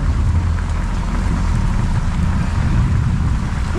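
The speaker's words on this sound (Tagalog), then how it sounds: "Lakas ng ulan." Heavy rain pours down in a dense, unbroken roar, loud and close, with no voices.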